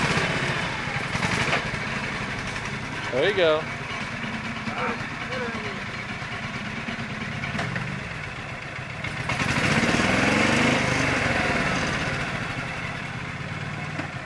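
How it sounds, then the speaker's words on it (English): A tractor engine idling and running at a logging site in Kentucky, a steady mid-pitched chug that rises in the latter part, under brief talk. "Turn the tractor over."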